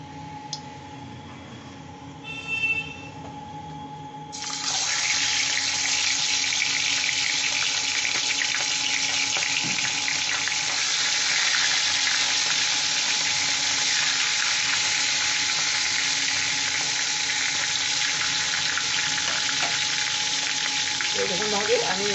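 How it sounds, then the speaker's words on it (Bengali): A hilsa fish head drops into hot mustard oil and frying takes over, a loud, dense, continuous sizzle close by that lasts to the end, following a quieter start. "আর এই তেলটা গরম হলে আমি ইয়েটা ভাজবো, মুড়োটা ভাজা হবে তেলটা গরম হলে"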